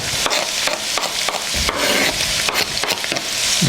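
Chopped onion frying with carrots in a pan for pasta bolognese: a steady, close crackling sizzle, broken by regular scraping stirs and light knocks, with no voices.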